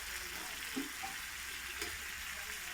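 Chaat masala and chilli powder sizzling in hot oil in a pan for chicken curry, a steady soft frying hiss with a couple of faint stirring scrapes, no talking.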